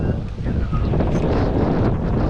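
Strong wind buffets the microphone during a bike ride in a constant, loud rumbling rush that fills the whole stretch without pause.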